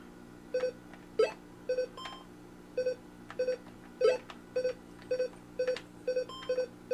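An electronic game timer beeps in a steady rhythm, short tones repeating about twice per second, with some faint clicking underneath and no talk.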